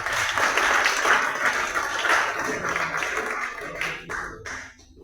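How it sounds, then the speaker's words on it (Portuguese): A church congregation claps together, a full, steady wave of applause that gradually thins and fades toward the end, with a few scattered claps lingering. "Só de palmas, irmãos"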